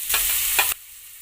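Bell pepper tossed into a hot kadai pan, a brief close burst of sizzling with a couple of stirring scrapes that cuts off abruptly.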